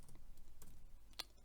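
Scattered clicks of typing on a computer keyboard, a few separate keystrokes spaced unevenly with one sharper tap near the end, quiet and close in a still room.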